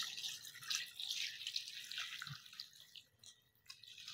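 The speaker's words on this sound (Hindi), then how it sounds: "इसमें पानी डालूंगी मैं 2 लीटर" About 2 litres of water run and drip steadily into a pressure cooker, a continuous bright splashing stream with occasional droplet plinks, close by and with no talking.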